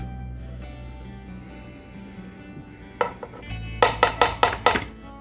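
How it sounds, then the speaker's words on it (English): Spatula scraping and tapping as apple cinnamon cake batter is smoothed into a baking pan, with quiet rubbing at first, then a burst of five or six sharp knocks close up near the end. "So now we're just going to smooth this out in the pan."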